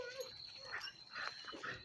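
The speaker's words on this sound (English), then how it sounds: "And then here we got the big dog." A big dog gives soft, intermittent whimpers and whines, faint and close, with no clear barking and some low background noise throughout.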